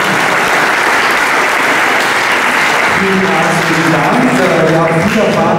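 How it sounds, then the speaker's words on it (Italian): Loud, dense applause fills a public meeting in Bronzolo as a guest is welcomed. The clapping sweeps on for several seconds, and a voice starts talking over its second half as it fades. "Un applauso alla nostra ospite di qui."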